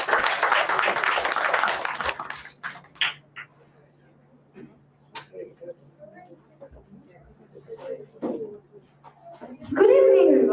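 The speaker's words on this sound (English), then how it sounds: "let's welcome Sakina with a round of applause." Applause from a theatre audience at a solo graduation performance greets a performer, a burst of clapping at the start that thins to scattered claps and small noises, then a voice speaks near the end.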